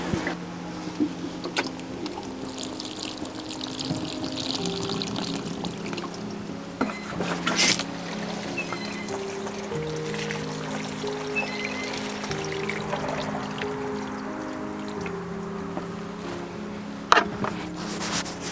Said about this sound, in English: so we're watering the plants.